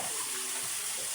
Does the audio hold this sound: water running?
yes